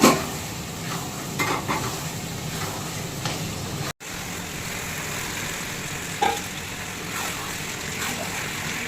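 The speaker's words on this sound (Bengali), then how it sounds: "চিকেনটা আমি রান্না করে নিচ্ছি।" Chicken frying in a pan with plenty of oil gives a steady, close sizzle, with a few stirring scrapes and one brief dropout near the middle.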